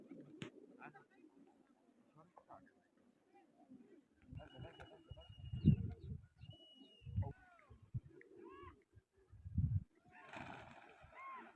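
Pigeons coo and call faintly in short bursts amid scattered background noise, with voices talking nearby.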